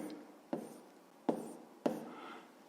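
Three short, close pen strokes on paper, spaced irregularly, each a sharp scratch fading quickly, recorded quietly while working a 5th-grade math exercise; no talking.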